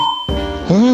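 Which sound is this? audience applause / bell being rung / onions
bell being rung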